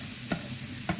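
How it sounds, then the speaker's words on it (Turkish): Chopped green hot peppers sizzle in a pan of tomato sauce, with two quick stirring scrapes standing out over the steady frying hiss, no talking. "Şimdi içerisine doğradığım yeşil acı biberlerimi ekliyorum."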